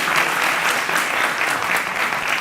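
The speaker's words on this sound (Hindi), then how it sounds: "यहाँ पे एक बार तालियां हो जाए प्लीज" Steady, dense applause from a television talk-show audience fills the whole stretch without pause.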